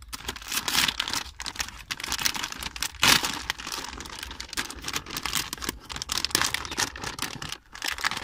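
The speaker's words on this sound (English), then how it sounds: "let's cut this packet and see which type of Oreo cookies" A plastic packet of Oreo cookies made in Thailand is cut and torn open, giving a steady run of close crinkling, crackling and snipping sounds with no talk.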